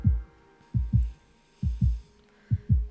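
Heartbeat effect from the video game Love and Deepspace: steady, loud double thumps, lub-dub pairs repeating about every 0.9 seconds, close and alone over a faint hum.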